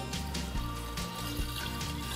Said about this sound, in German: Also 800 Gramm Wasser dazu.